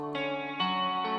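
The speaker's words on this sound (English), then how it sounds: "I'm just gonna add a little bit of chorus." Rock beat built in FL Studio with a chorus effect on it, three sustained chords that shimmer and swirl, changing at even intervals, short and alone with no voices.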